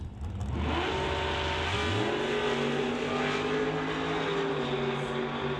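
Door slammer drag cars, a 55 Bel Air and a Camaro, launch off the line, their engines rising from a low rumble into a loud, sustained climbing roar that holds steady, with no talk.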